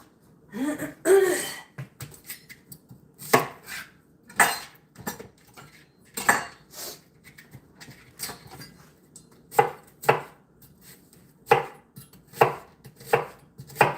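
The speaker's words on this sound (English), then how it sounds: "So I'm going to cut some of these small, and then the other ones I'm going to slice it just for flavoring" Knife chops vegetables, onions among them, on a cutting board while a quiche and dinner are prepared at home; sharp separate strokes come in irregular bursts with quiet gaps, and a throat clearing sounds near the start.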